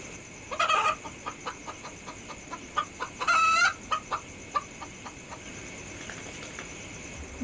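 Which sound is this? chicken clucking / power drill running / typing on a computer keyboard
chicken clucking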